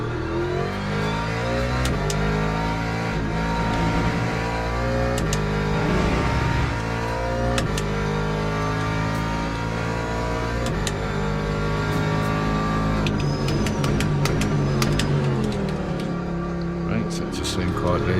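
A GT3 race car in a racing video game revs hard throughout, its growling engine rising and falling through gear changes with sharp clicks. Someone talks over the engine.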